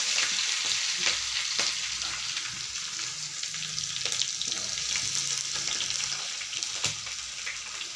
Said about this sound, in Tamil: இது மீன் குழம்பு தாளிக்கிறேன் காய்ஸ்.